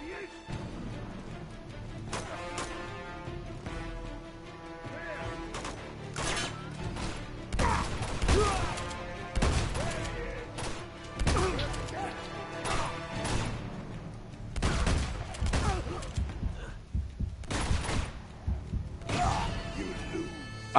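Gunfire in Uncharted from The Nathan Drake Collection: repeated shots and impact crashes recur across a long firefight, with a voice talking at times in the mix.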